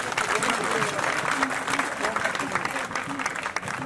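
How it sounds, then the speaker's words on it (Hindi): Crowd at a union sit-in protest at Delhi University's Arts Faculty applauding, a dense, continuous clapping throughout with voices mixed in underneath. "एक बार जोरदार तालियां।"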